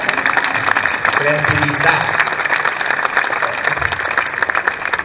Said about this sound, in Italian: credo di meritarmi un applauso, no?